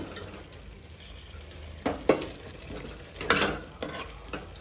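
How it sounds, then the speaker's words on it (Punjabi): Boiled potatoes go into a pan of cooked masala and get stirred, making a steady low sizzle with several clattering scrapes of a spoon against the pan, close and without talk. "ਹੁਣ ਆਪਾਂ ਇਸ ਦੇ ਵਿੱਚ ਪਾ ਦੇਣੇ ਆ ਇਹ ਆਲੂ"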